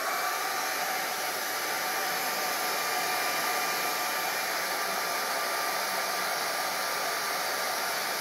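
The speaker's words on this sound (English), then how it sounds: "maybe, you know, this is just a hair dryer" A hair dryer runs steadily and evenly at moderate volume, a constant airy whoosh with a thin motor whine and no pauses.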